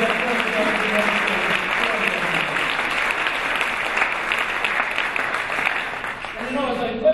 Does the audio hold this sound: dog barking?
no